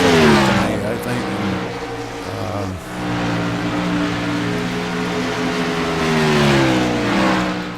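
Gen 6 stock cars race around a track, engines roaring loud and close with pitch rising and falling as they accelerate and pass, a commentator's voice running over them.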